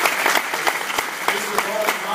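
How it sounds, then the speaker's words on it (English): A graduate reception audience gives a round of applause for the graduates, with dense rapid clapping that stays steady and fairly loud throughout. "you'll give each of these, the graduates here, like the biggest round of applause"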